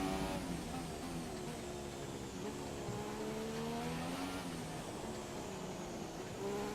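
Formula 1 car lapping the Canadian GP circuit in F1 2017, its engine a steady, loud, high-pitched whine rising and falling through gear changes with faint tire squeal, continuous throughout with no talking.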